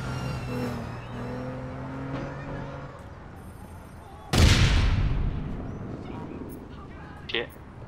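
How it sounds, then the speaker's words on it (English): A grenade explosion in APB Reloaded lands as one loud, sudden boom midway through and rumbles away for a few seconds, with game music and a brief later bang around it. "Throwing grenades at myself."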